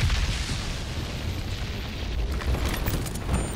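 Gauss cannon fired in the shooter game Crysis 3, a loud, sustained booming blast with a heavy low rumble and crackling high noise that holds steady for several seconds without talk.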